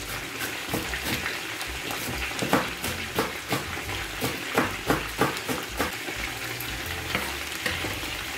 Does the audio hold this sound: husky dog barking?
no